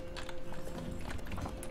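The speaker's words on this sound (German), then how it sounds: "Und dann holen wir unser Pferd mit dem Greifenkopf" Horse hooves clip-clop steadily in The Witcher 3 as the mount trots along, a continuous rhythmic clatter over a humming game-world backdrop with no talking.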